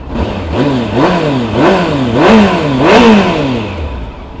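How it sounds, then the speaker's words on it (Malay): A 2017 Kawasaki GTR1400 sport-touring motorcycle engine runs close by and loud, revving up and down in repeated rising and falling sweeps over a steady idle. "Dengan last kita start bagi orang dengar. Okay, engine semua cantik lagi lah."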